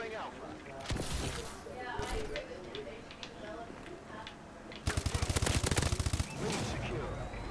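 Rapid automatic gunfire from a Call of Duty: Advanced Warfare multiplayer match, with scattered shots followed by a loud sustained burst near the end, while a player keeps talking throughout.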